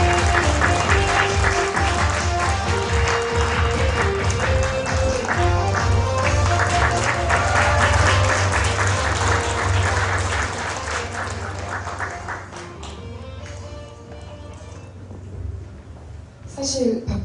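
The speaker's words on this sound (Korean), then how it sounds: "박수 부탁드립니다." An audience applauds to welcome author Park Bum-shin at a literary talk event, a sustained loud round of clapping for about twelve seconds that fades, followed by a brief voice.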